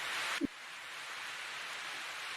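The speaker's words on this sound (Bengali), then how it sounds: "এই কি আবার বৃষ্টিও শুরু হয়ে গেল ছাতাও সাথে আনিনি" Steady cartoon rain hisses evenly throughout, with a brief dull knock near the start.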